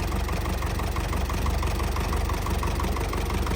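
Steady, dense idle of a GAZ 3307 truck engine, loud and close with an even low rumble and continuous mechanical clatter, no voices.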